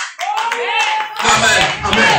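A church congregation at a city ministry service claps and cheers, voices ringing first, then a dense burst of applause taking over loudly and continuing to the end.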